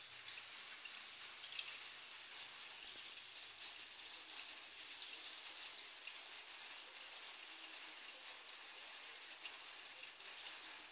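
Rain falls in the Roblox game Mega Mansion Tycoon, a faint continuous hiss of drops with a few soft clicks and tones scattered over it.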